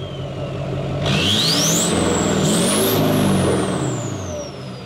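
A 1984 Chevrolet C10 prerunner truck with a Duramax engine revs hard and climbs in pitch through repeated pulls, with a loud, steady, close-up engine roar and no talk over it.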